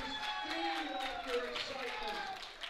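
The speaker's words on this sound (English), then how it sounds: "Looks like she has a nice group of fans out there cheering her on" A crowd of fans at a national powerlifting meet cheers on a female lifter, steady mid-distance crowd noise with mixed voices and some clapping running throughout.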